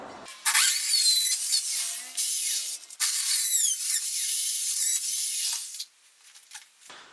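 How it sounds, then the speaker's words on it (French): Hammer drill boring into a concrete slab in a workshop to set 10 mm nylon anchors, a loud, close, harsh whine in bursts of about two to three seconds with brief pauses, ending in quieter scraping and handling. "Et puis perceuse à percussion pour percer."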